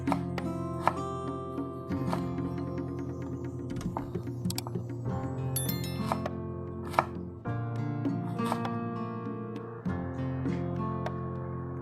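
A knife slices thin pieces of ginger on a cutting board for tomato rice, a long run of quick, close, steady chopping taps over a constant low background hum, with no talking.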